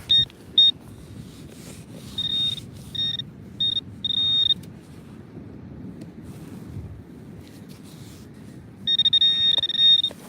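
A metal detector on a beach gives sharp, steady electronic beeps in short bursts, then falls silent, then gives a longer closing burst. Wind rumbles into the microphone throughout.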